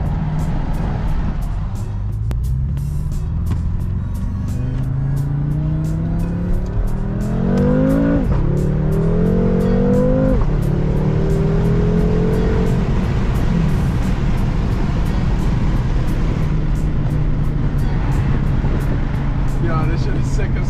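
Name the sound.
car engine revving and accelerating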